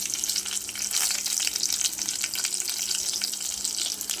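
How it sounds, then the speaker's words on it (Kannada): Onion, green chili and curry leaves fry in a pan for a Mangalore-style padengi dish, giving a steady close crackling sizzle with light stirring scrapes throughout, no voices. "ಅದು ಸ್ವಲ್ಪ ಫ್ರೈ ಮಾಡಬೇಕು."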